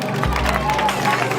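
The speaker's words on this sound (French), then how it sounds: "Félicitations, on applaudit pour eux." Audience applause for spelling contestants at a school spelling competition, a steady dense wash of clapping filling the whole moment at moderate loudness.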